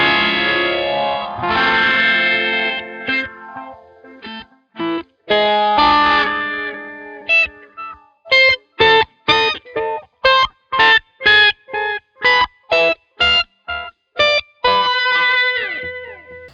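Electric guitar on patch A for the intro, heavily effected and distorted with chorus, first a sustained wash, then a long run of rhythmic staccato stabs before a ringing final chord.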